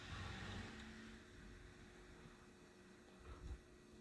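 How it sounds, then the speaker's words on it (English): A car passes along a road at night during a severe thunderstorm, a steady low rumbling wash of tyres and engine heard from a distance with no voices. "There's a car driving in this weather."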